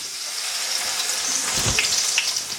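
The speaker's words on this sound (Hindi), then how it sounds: "तेल गरम करेंगे और इसमें डालेंगे जो कि आपको प्याज दिखाई थी ग्राइंड हुई हुई, और आपने इसको अच्छी तरह फ्राई करना है" Ground onion fries in hot oil over a high flame, giving a loud, steady, close sizzle with crackling bursts and no talking.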